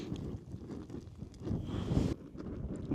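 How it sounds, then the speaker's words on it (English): Strong wind buffets the microphone atop a winter mountain during snow, a low roaring rush that swells to a louder gust midway, then cuts off abruptly and returns steadier, with no talking. "the wind's ruining me fun with the fire now. Blowing too hard"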